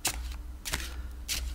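Playing cards are riffled and shuffled in three quick bursts, with a faint low hum in the background.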